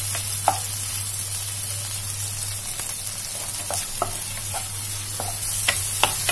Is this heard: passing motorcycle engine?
no